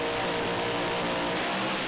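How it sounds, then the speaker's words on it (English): Pro Alcohol drag racing engine revving on the start line at Willowbank Raceway's Winternationals, a loud continuous roar with a steady harmonic drone, no voices over it. "Once they've both got all lights on the Christmas tree, the revs come up"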